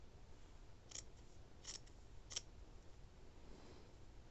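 Scissors snip through T-shirt fabric to make yarn, three short crisp cuts spaced about a second apart over a quiet background.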